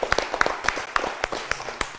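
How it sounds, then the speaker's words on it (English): Sparse, rhythmic hand clapping for a quiz contestant, a handful of distinct claps spaced roughly every quarter second, close and moderately loud with no talking over them. "Clap for Ibrahim."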